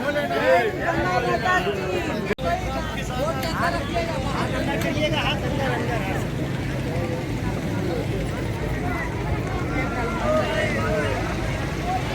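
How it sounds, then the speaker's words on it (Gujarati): A steady motorboat drone runs throughout beneath busy crowd chatter and overlapping voices, as a boat sets off on the river toward Harishchandra Ghat in Varanasi. "ફાઇનલી બોટ નીકળી આપણી"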